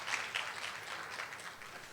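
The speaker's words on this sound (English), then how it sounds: "I think some people are clapping." Scattered, fairly faint clapping from an audience at a stakeholder forum, a steady patter of hands lasting a couple of seconds with no voices over it.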